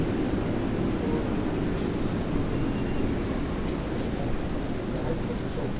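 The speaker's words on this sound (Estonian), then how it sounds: "äikese vihm tervitab meid" Steady rain falls during a thunderstorm in New York, a dense, constant hiss that fills the whole stretch without pause, with no clear thunder claps standing out.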